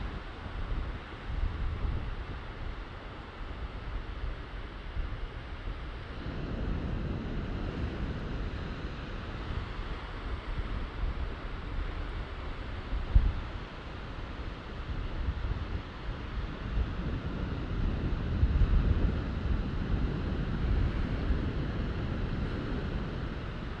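Wind blows outdoors in uneven gusts, buffeting the microphone with a low rumble that swells and eases throughout, with no voices.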